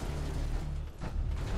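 A mechanical door grinds open in Fallout 4, giving a steady, dense rumbling churn with a brief dip in the middle. No one speaks.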